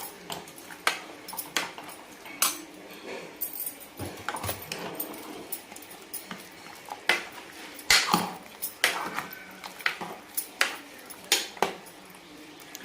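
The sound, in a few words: mixing mutton with hot water in a pot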